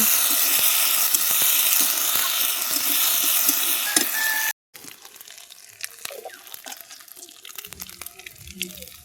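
Onions and masala sizzle in hot oil in a kadhai, a dense, steady frying hiss that cuts out briefly and then returns quieter, with scattered stirring clinks and small pops.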